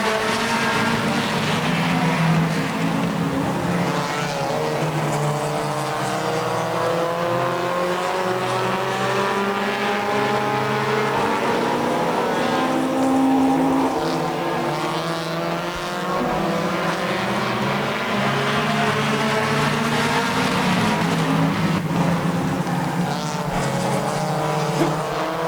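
Stock cars, including an 04 Cavalier, race close together around a dirt track in a heat race, their engines roaring continuously and rising and falling as they pass. A commentator's voice runs over the noise.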